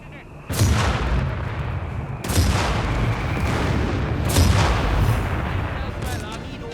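Artillery barrage in the World War II strategy game Company of Heroes 3, with repeated heavy booms and rumbling blasts over roughly seven seconds, loud and continuous, partly under someone talking.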